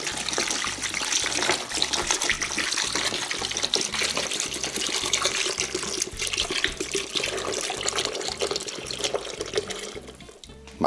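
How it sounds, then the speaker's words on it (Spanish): Water poured onto ice in a container during chloroform preparation, a steady continuous splashing trickle running unbroken at moderate loudness with no talking. "Añadiremos un poco de agua al hielo."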